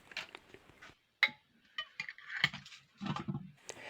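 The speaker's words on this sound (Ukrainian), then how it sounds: "Тепер закриваємо кришкою і ставимо все" A lid closed onto a glass jar of sorrel leaves in cold water: a few close clinks and scrapes of metal against glass, with small handling knocks in a quiet kitchen.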